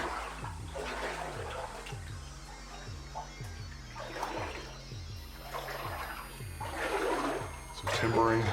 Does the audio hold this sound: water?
yes